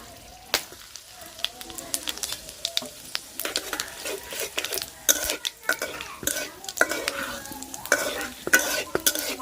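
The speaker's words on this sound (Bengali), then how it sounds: "তেল গরম হয়ে গেছে ফোড়ন দিয়ে দিতেছি তেজপাতা এলাচ দারচিনি লবঙ্গ এই হচ্ছে মোটা জিরা" Whole bay leaf, cardamom, cinnamon, clove and cumin seeds sizzle in hot oil, a steady crackling fry broken by sharp stirring scrapes and clinks of a utensil against the pan, close and fairly loud throughout.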